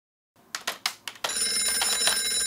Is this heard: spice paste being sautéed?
no